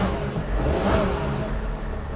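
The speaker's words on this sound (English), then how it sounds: "as you can hear, the engine is running" A Dodge Sprinter van with the glow plug and check engine lights stuck on and a leaking oil cooler idles nearby, giving a steady low engine rumble with a slight swell partway through.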